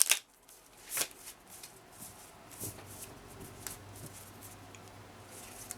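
Tarot cards are shuffled close by in a few quick riffling bursts, separated by pauses and softer handling clicks.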